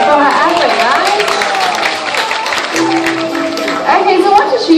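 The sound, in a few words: audience applause at elephant show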